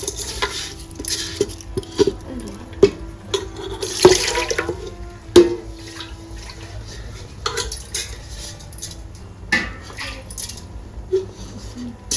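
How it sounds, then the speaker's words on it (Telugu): Water is poured into a pot of raw rice for chicken pulao, splashing and trickling steadily with scattered clinks of a cup and utensils against the pot, close by and fairly loud. "వాటర్ పోసుకుందామండి."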